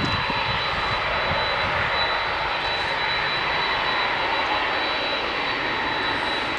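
Steady, loud roar of Jet2 airliner engines at Manchester Airport, a broad continuous rumble with a faint high whine on top, holding level throughout with no talk.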